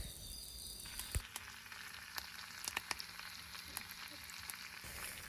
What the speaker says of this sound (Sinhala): ඉතින් රන්වන් පාට වෙනකන් බැද ගන්න හොඳට සුදු ලුණු ටික බැදගෙන